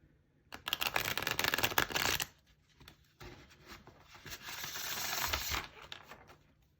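A deck of tarot cards is riffle-shuffled twice, a fast fluttering burst followed by a softer, longer riffle, close and clear with no talking.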